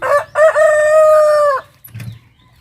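A native hen gives one long, loud, drawn-out squawk close by, then after a short gap a softer low cluck, with faint farmyard noise behind.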